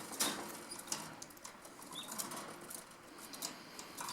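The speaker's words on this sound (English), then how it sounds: "the tenant has some birds right here." Pet birds kept indoors at a townhouse flap their wings in short, repeated bursts, with faint chirps and cage rustles mixed in nearby and no talking.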